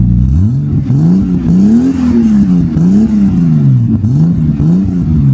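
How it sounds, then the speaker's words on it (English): A Toyota Supra engine with a straight-pipe exhaust revs repeatedly in loud, rising and falling bursts, raw and throaty, close by with no voices. "So this is what it sounded like before with the straight pipe."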